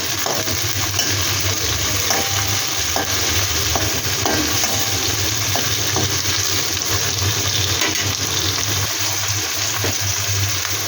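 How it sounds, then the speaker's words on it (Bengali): Tomatoes frying with already-fried onions in a pan for a home-style grandmother's recipe, giving a steady, continuous sizzle with occasional stirring scrapes, close and even throughout, with no talking. "এই টমেটো দিয়ে দিলাম। টমেটো দিয়ে একটু ভালো করে ভেজে নেব।"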